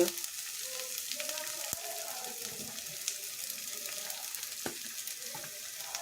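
Asafoetida and a spice masala sizzle in hot oil, a faint, steady crackle broken by a few sharp clicks and soft stirring sounds.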